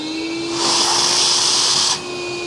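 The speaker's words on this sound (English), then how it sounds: "I've got my handy shop vac over here, which is gonna clean it up" Shop vac powered off a hunting blind's portable supply switches on with a sudden hissing whoosh, runs loudly and steadily for over a second, then cuts off, leaving a faint constant hum underneath.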